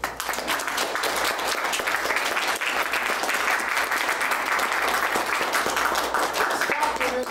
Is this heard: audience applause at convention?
yes